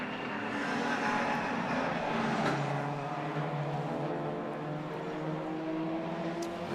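Roadsports race cars lap Croft circuit, their engines a fairly faint, sustained drone that rises as cars pass and then fades, with no one speaking.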